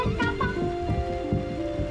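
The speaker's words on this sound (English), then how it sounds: "Can we do mindful listening of the rain?" Steady rain falls outside a classroom, a continuous soft patter with scattered drops, under brief faint voices.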